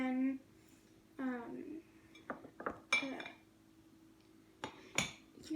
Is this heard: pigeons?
no